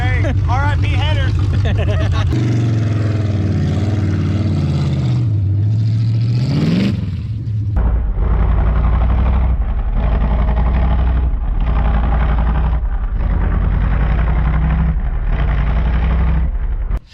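A 1967 Firebird V8, once abandoned and now running with a broken header, revs hard with rising and falling engine pitch, then settles into a loud, steady rumble with throttle pulses. People talk over the engine throughout.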